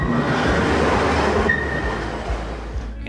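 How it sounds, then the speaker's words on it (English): Train on the rail line to Lima, a steady loud rumble of carriages on the rails with a faint high wheel squeal partway through, no voices. "So got the train going to Lima here."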